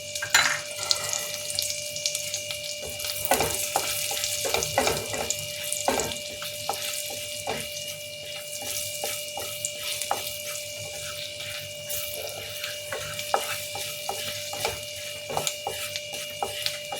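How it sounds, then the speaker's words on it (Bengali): Flour is stirred and fried with garlic in a pan for a white sauce, giving a close, steady sizzle broken by repeated scraping clicks of the utensil in an irregular rhythm, with no talking. "ময়দা দিয়ে দিলাম, এর সাথে একটু নাড়াতে থাকি খানিকক্ষণ।"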